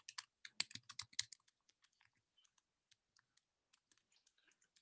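Typing on a computer keyboard, a quick burst of close, crisp key clicks followed by sparser, fainter scattered taps in a quiet room.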